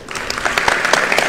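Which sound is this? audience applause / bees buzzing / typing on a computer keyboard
audience applause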